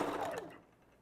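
A sewing machine back stitching across a wig track gives a short, close whirring burst that slows and fades away within a second.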